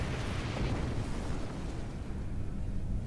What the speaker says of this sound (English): Target's shield has failed. Fire torpedo. Destroy.